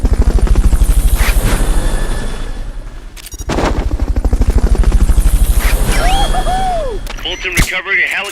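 Helicopter in the video game Metal Gear Solid Peace Walker, a loud, close, rhythmic rotor chop pulsing steadily throughout, mixed with bursts of gunfire and other game effects near the end.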